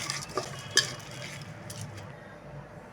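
Spoon stirring sliced onion, coriander, curry leaves, green chilli, ginger paste and cumin together in a bowl for onion pakodi, a few soft scraping clicks and one sharper clink early on, then quieter mixing.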